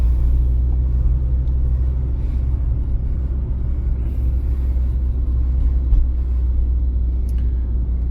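A car rolls slowly through a residential private-house area of Vinnytsia on a driving exam route at about 30 km/h, its cabin filled with a steady, low engine and road rumble.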